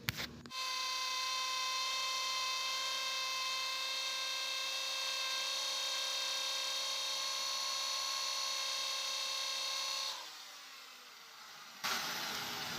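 A power drill whines at a steady high pitch for about ten seconds, then winds down and stops, drilling out a broken screw inside the CVT case of a Honda Click 125 scooter.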